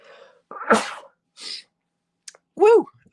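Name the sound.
sneeze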